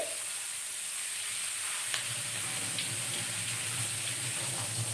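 Running water splashes steadily as sprouted mung beans are rinsed under a tap, with a faint clink partway through; no talking.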